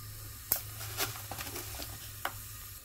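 Cumin seeds hit hot oil for tempering, giving a quiet background sizzle broken by a few sharp clinks and stirring taps from a spoon against the pan. No one speaks.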